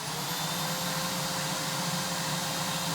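Aerus Lux Electrolux Guardian 90th Anniversary upright vacuum running on suction only, a steady, fairly quiet motor hum with a higher whining tone, close and continuous with no talk.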